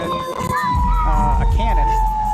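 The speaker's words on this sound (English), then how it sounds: "there's a siren" A siren wails steadily through the crowd and band noise at a high school football game between Parkway and Woodlawn, a sustained tone under a low rumble of background sound with a voice talking.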